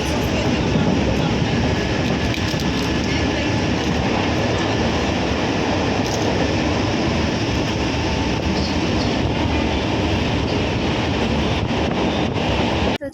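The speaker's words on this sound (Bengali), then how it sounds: "তো দেখতে পাচ্ছি আমি ট্রেনে উঠে পড়েছি।" A passenger train moving just after boarding at a station, heard from inside the carriage: a continuous loud rumble with rail clatter and a steady rushing roar that holds evenly throughout.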